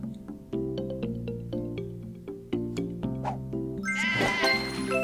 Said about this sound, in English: So I had to sacrifice a sheep.